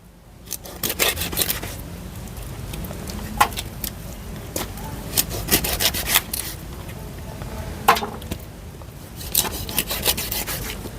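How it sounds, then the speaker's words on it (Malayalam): A knife cuts a cleaned scabbard fish into curry-sized pieces, giving irregular scraping and chopping strokes with sharp knocks against the board. Each stroke is close and moderately loud, with no talking. "വാള കട്ട് ചെയ്യാൻ തുടങ്ങാം. ഒക്കെ കറി പീസായിട്ടാണ് മുറിക്കണേ."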